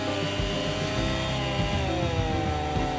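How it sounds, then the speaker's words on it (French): Chainsaw boring into a tree trunk with the return of the chain, the engine running loud and steady at close range, its tone holding level throughout with no voices. "On coupe avec le retour de la chaîne et la scie s'enfonce d'elle-même dans le bois"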